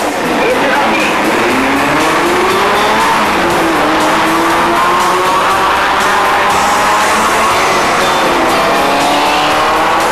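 Several blue Renault 8 Gordini race cars on a circuit, engines revving and droning continuously, with pitch sweeps as they accelerate and pass, loud and close, with some crowd or commentary noise beneath.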